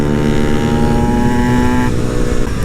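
An Aprilia SX-125 two-stroke supermoto engine revs loud and close with a buzzy, harmonic-rich whine that holds, then its pitch drops and wavers as the revs change.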